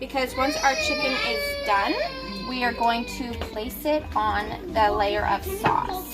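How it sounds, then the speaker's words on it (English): Young children cry and whimper in the background of a home kitchen while an adult talks over them, spreading sauce for chicken parmesan; the wailing rises and falls in repeated bursts, fairly near. "As you can hear the kids in the background"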